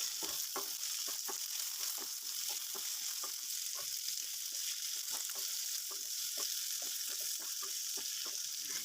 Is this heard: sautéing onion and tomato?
yes